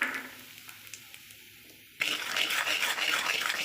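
Turmeric, cumin and coriander powder stirred in a pan: a soft, steady scraping and rubbing that starts abruptly after a quiet moment and continues loud and close, with no talk.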